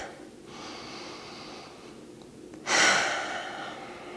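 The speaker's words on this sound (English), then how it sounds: "close your eyes, take 3 breaths" Calm breathing during a mellow yoga flow: a soft, quiet inhale is followed by a louder, breathy exhale near the end, close and without talk.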